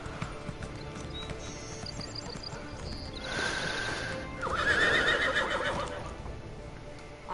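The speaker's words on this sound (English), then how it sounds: "God damn it, horse." A horse in Elder Scrolls Online neighs and whinnies with clip-clopping hooves, fairly faint and close, with the whinny swelling in the second half.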